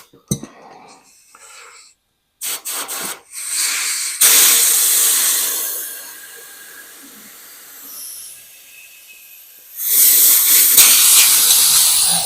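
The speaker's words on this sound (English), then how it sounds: "We're going to just use our blowgun to blow it up, make sure everything is good." A blowgun pushes air into a tire on a wooden wheel with the valve core removed, in loud hissing bursts. Short puffs come first, then a long rush that fades and swells before a final strong blast.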